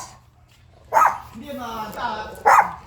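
A dog barks twice, sharp and close, with a softer whining, voice-like sound between the barks over a low background hum.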